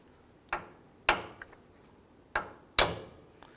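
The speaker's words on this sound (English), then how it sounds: "Now I'm going to go ahead and lightly tap the ball joint stud up top here." A hammer lightly taps the ball joint stud on a 2004-2009 Dodge Durango during an outer tie rod replacement: four sharp, fairly quiet metallic knocks in two uneven pairs, each ringing briefly, with no talk.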